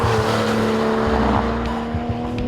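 A Porsche 911 Carrera S driven on the limit around a racetrack gives a loud, steady high-revving engine howl with a sustained tone and brief rumbles, no talking.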